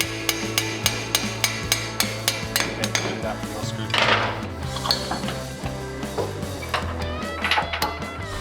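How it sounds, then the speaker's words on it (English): Metallic pops and clanks from a lever bar working a CV axle out of the differential on a 4x4, a quick series of sharp ringing hits and knocks at close range, with some scraping between them. "We're going to need a lever bar to pop the axle out of the diff."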